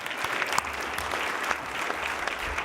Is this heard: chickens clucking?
no